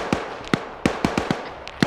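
Mortar rounds go off in a military video game as a quick series of sharp, distant cracks and thuds, about seven irregular blasts at low volume.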